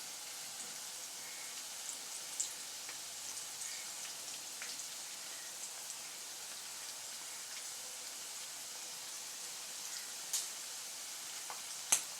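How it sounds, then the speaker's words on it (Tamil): Batter-coated okra deep-frying in hot oil makes a faint, even crackling hiss with a few sharper pops scattered through, and no voices. "இப்போ இதை நம்ம எண்ணெயில் போட்டு பொரித்து எடுத்துக்கலாம்"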